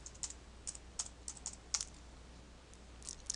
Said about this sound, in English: type Glogster into the search box